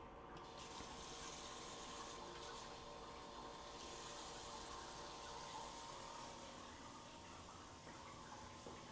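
Water running steadily from a kitchen tap to fill half a cup for a sweet potato cake batter, a constant gushing hiss held for several seconds, fairly faint.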